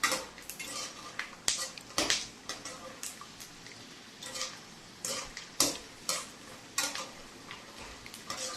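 Ingredients for mint puffed rice are stirred and fried in a pan, with repeated metallic scrapes and clinks of a utensil against the pan in an irregular rhythm, close and moderately loud, under a soft background.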